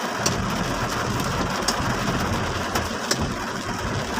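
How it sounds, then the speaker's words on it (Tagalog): Heavy rain pours down steadily in Scout Reyes on a dark early afternoon, a dense, even roar of drops with an engine rumbling low underneath, and no one speaking. "Malakas ang buhos na ulan."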